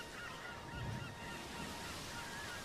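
Goose-like honking bird calls open the intro of a song, giving a seaside feel, with a few calls rising over a soft, steady wash of sound.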